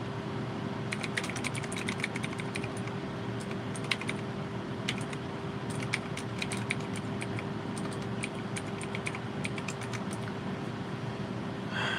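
Rapid, steady typing on a computer keyboard, close and fairly quiet, with a constant low hum underneath and no one speaking.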